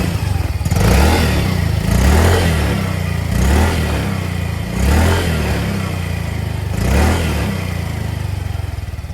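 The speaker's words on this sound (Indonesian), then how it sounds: "beginilah suara dari mesin Yamaha Gear 125" A Yamaha Gear 125 Ultima Hybrid S automatic scooter engine runs close by, with a steady low putter and four evenly spaced revs that rise and fall.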